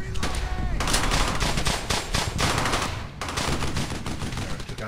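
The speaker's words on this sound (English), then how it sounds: "Right, so I brought my machine gun team forward." Machine-gun fire and other gunfire crackle through a World War II battle in the video game Brothers in Arms: Hell's Highway, with loud, dense bursts and shots that go on almost without a break for about five seconds.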